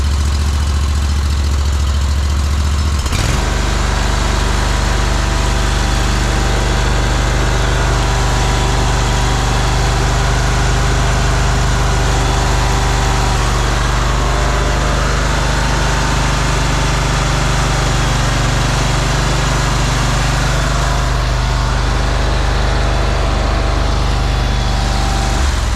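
Ferris ISX 3300 zero turn mower engine starts after a moment of quiet, then runs in a steady, loud, close drone with a constant low rumble throughout.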